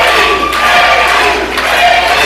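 A wrestling crowd at an Anarchy Games event cheers and roars for Jeff G. Bailey, a dense, loud wash of shouting voices that swells and surges continuously.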